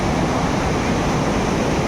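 Steady, loud rushing of flowing water at the Manikaran hot springs, a close, unbroken roar with nothing else standing out.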